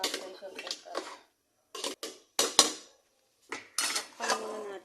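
Sautéed food being scooped with metal utensils into a pressure cooker, making a string of close clanks and scrapes in short bursts with silent gaps, while a person talks in between.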